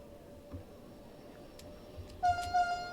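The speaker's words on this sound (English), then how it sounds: "A little bit of horn." A DB BR 425 regional electric multiple unit in Train Sim World 5 gives a short two-toned horn blast near the end, loud and sustained over a low rumble of the train running.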